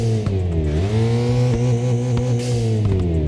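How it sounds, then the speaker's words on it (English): A video game car engine revs and shifts through gears, its tone rising and dropping steadily, with turbo sounds and a few sharp exhaust crackles and pops. Loud and continuous. "We also added some new turbo sounds and exhaust pops"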